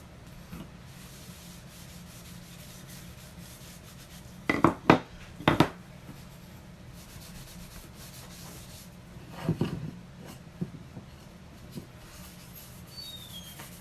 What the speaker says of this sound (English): I just take a rag, and then I just rub the wax on there.